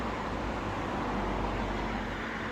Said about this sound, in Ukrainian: шумлять машини дуже